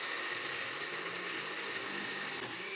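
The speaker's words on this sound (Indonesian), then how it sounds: "Oke, kita blender." A blender grinds spices with water, whirring continuously at high speed, a steady buzzing motor roar that stays even for a few seconds.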